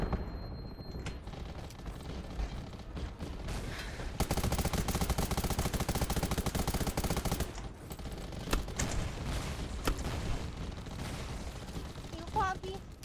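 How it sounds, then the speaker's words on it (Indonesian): Gunfire in the video game Undawn comes from above in sustained automatic bursts, with a long unbroken stretch of rapid shots in the middle and scattered single cracks around it, while a voice talks over the fight. "Oh, aku ditembak dari atas."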